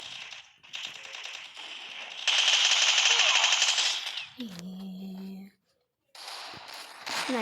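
Video game gunfire in a sniper match, with rapid bursts of rattling automatic shots close up, a loud sustained stretch, then a tonal game sound and a brief silence before the firing resumes.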